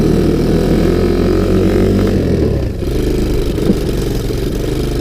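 A Sunl 110cc ATV engine runs close and loud with a steady buzzing rasp, its tone dropping and sagging as it bogs down in second gear partway through, then droning on unevenly.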